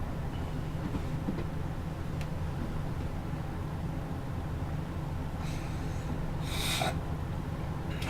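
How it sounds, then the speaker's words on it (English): A person close to the microphone gives a couple of quick nasal sniffles near the end, over the steady low rumble of a train simulator engine running at full power. "Sorry about the sniffles, guys."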